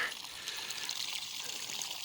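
Natural spring water pours steadily into a container, a continuous bright splashing trickle heard close up and alone, holding an even level throughout.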